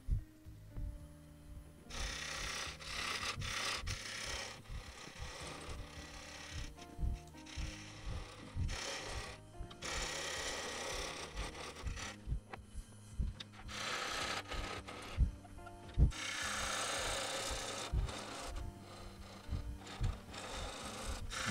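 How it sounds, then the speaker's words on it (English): A negative rake scraper with a half-inch steel shank cuts into an epoxy and wood bowl spinning on a wood lathe, making bursts of rough scraping and rasping that rise and fall between quieter pauses. "This is a scraper, but with a negative rake and a half inch steel tool."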